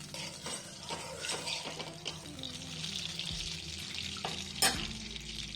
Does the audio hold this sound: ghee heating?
yes